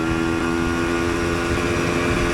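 A 1988 Yamaha DT200 two-stroke motorcycle on a test ride, its engine a loud, continuous, buzzing drone held at a steady pitch from start to end.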